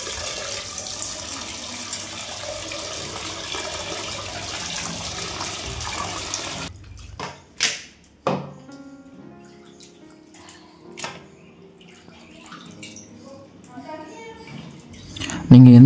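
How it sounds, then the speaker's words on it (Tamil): Water splashing and pouring while a goat head is washed for a village curry, steady running water for several seconds, then separate splashes and drips, close by, with a person speaking. "ஒரு 3 to 4 டைம்ஸ் இந்த மாதிரி தண்ணியில் ஊற்றி நல்லா வாஷ் பண்ணிக்கணும்"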